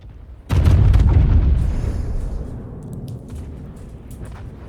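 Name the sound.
battleship guns firing at destroyer in video game World of Warships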